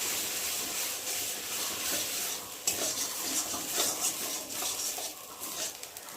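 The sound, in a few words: bottle gourd leaves frying and being stirred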